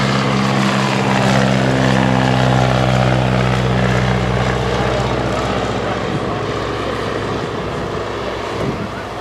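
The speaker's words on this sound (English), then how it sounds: "Here comes the new standard, another takeoff" An antique propeller airplane takes off at Old Rhinebeck Aerodrome, its engine drone loud and steady up close, then slowly fading a little as it pulls away.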